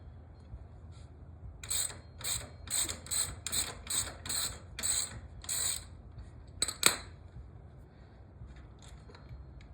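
Bolts on a motorcycle front brake caliper being loosened with a ratchet, a run of rapid clicking bursts in quick rhythm followed by a couple of sharper clicks, close and otherwise quiet.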